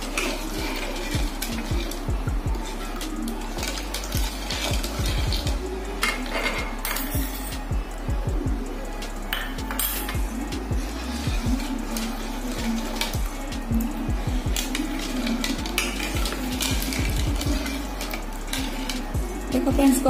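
Sweet milk pudding with cornflour stirred in a pan, a spoon clinking and scraping against the metal in quick repeated strokes, fairly close and continuous, with occasional voice in the background.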